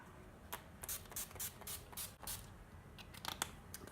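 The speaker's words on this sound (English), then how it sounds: "NYX again. It's a matte finish setting spray." Short quiet hissing bursts of NYX matte finish setting spray sound in a rapid irregular series of several puffs, close and soft with no talking.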